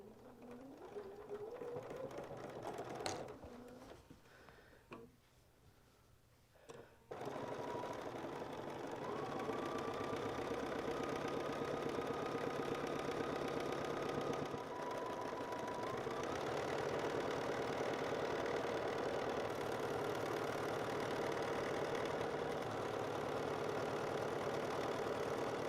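A sewing machine runs for a long stretch while stitching a quilt border onto the fabric, making a steady, fast mechanical hum close by, with a brief pause near the start and no talking.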